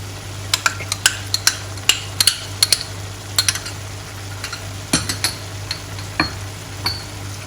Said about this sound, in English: We will now give it a good old stir.